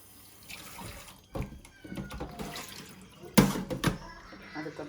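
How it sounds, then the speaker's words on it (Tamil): Sea bream being rinsed under a running kitchen tap, with bursts of splashing water and handling noises that rise and fall, including a louder gush near the end, and a voice speaking faintly underneath. "இப்போ நம்ம மீனை கொஞ்சம் வடிவாக கழுவிட்டு"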